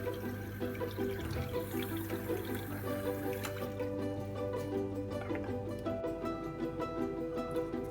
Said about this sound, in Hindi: अब इसको हम इस सॉस पैन को तकरीबन पौना पानी से भर लेंगे